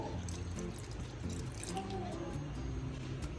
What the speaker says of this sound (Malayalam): കുറച്ച് വെള്ളവും കൂടി ഇടുന്നുണ്ട്.